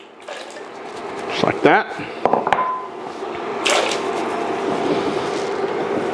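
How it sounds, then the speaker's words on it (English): Four cubed russet potatoes drop into a pot of beet borscht with a brief cluster of wet plops and splashes, followed by a steady simmering hiss, while a voice speaks briefly. "So I've got 4 russet potatoes chopped into cubes. I'm gonna add those in there"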